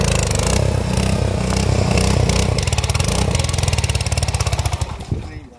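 A tractor fitted with cage wheels working in thick mud, its engine chugging loudly and close in a steady rapid thump that slows and fades near the end as it stops.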